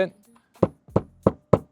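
Hammer tapping metal flashing down over brick wall coping, four sharp evenly spaced knocks close by, following a short burst of talk.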